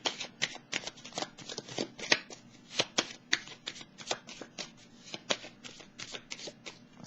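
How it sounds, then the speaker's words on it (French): Tarot cards being shuffled and drawn by hand, a close run of crisp riffles, flicks and soft slaps in irregular bursts, with no voice. "Je vais piger une carte sur elle avant de continuer."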